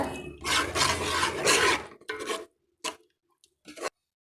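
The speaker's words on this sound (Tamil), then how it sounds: "நல்லா கலந்து விட்டுக்கோங்க" A spoon scrapes and rasps around a pot of chickpea curry gravy in a few quick strokes, followed by several short, isolated scrapes.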